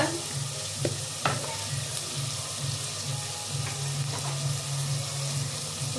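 Meat sautéing with garlic in a pan for biryani gives a steady moderate sizzle and hiss, with a few brief clinks of stirring near the start.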